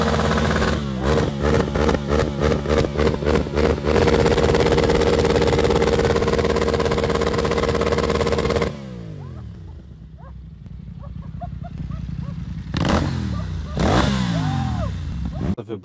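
A BMW F900XR motorcycle fitted with a Stage 1 remap and aftermarket exhaust revs hard in a series of loud, rhythmic throttle blips near the microphone, then settles to a lower idle with a couple of brief revs and some background noise.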